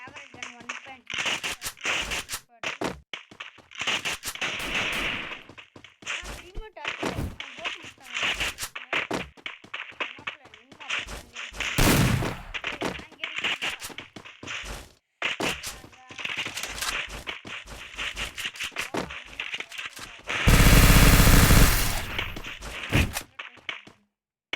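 Gunfire from a favourite gun in a video game: rapid, sharp shots crackle in dense runs throughout, with a louder sustained burst near the end and a voice talking in between.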